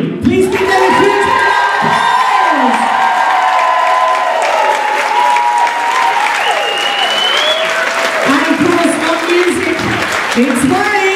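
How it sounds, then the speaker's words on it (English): Loud audience applause and cheering for the backstage crew at a parade show, with sustained clapping, whoops and shouts that fade somewhat as voices carry on over it. "So ladies and gentlemen, the crew, please give them a huge applause!"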